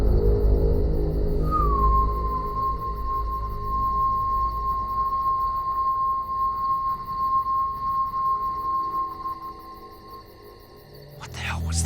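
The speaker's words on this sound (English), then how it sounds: "that sound is like a whistling" A strange whistle at night in the woods, a single long, thin, steady tone that rises briefly then holds for about ten seconds over low rumbling background noise, ending with a short clatter.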